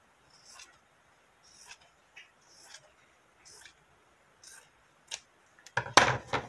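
Scissors cut through material in several short, soft snipping strokes spaced about a second apart, close and quiet, ending with a louder rustling burst of handled material.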